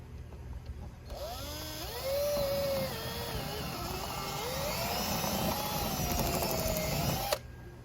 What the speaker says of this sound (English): So I'm going to go ahead and drill some holes now.